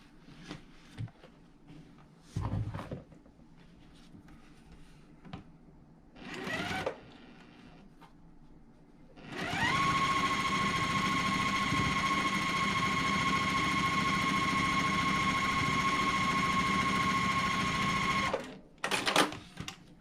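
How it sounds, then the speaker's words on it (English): A sewing machine stitches a complete quilt block seam in one long, steady, loud run of about nine seconds, with quieter handling noises before and after. "we're going to sew that complete seam."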